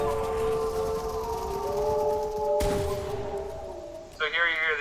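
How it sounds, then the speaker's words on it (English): Wolves howl in long, sustained, overlapping wails, loud and close, in a film scene where a child is stuck in a tree, followed by a sharp crack and a short wavering cry at the end. "So here you hear the animals howling as the kid's stuck in the tree."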